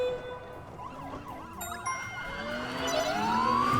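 Emergency vehicle sirens in the video game Rescue HQ, one wailing and yelping up and down while another rises, growing louder and denser over a few seconds.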